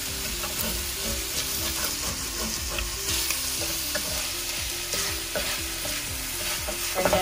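Sautéed onions sizzle and fry steadily in a pan over medium heat while a utensil stirs and scrapes in a repeated rhythm, close and fairly loud, for a Jamaican ackee and saltfish breakfast.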